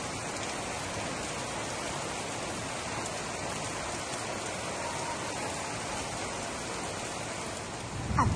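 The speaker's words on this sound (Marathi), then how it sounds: "पाऊस पडला, मुलांना मज्जा येते ना दिवसांनी पाऊस आल्यावरती" Steady rain falling outdoors, a dense, even wash of drops hitting surfaces that stays unchanged for the whole stretch, with a slight rise at the very end.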